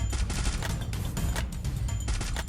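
Rapid gunfire in the shooter video game Free Fire, a dense, fast-repeating volley of loud shots that runs without a break through the short clip.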